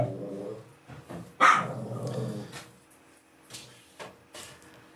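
Dogs in a house in Masatepe, Nicaragua, bark and growl close by, a burst of loud barks followed by lower growls and a few scattered yaps at a rough, uneven rhythm.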